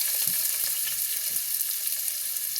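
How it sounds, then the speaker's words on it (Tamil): Onions frying in a pan for sambar give a continuous soft sizzle with faint stirring clicks, moderately close and fairly quiet, with no speech. "அங்கே வெங்காயம் போட்டாச்சுப்பா"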